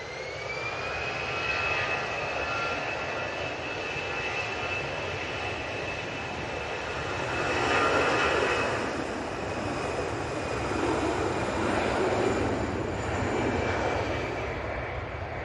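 A flydubai jet airliner departing from Manchester Airport for Kish, a steady loud engine roar with a whining tone that swells and holds across the whole stretch, heard alone from a distance.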